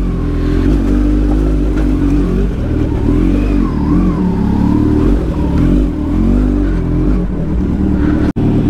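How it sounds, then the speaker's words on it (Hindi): Motorcycle engine idling and revving while warming up, a loud, close, continuous rumble with gentle rises and falls in pitch throughout, running alone without talk. "बाइक का वार्म अप कंप्लीट है।"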